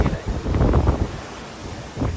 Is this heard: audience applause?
no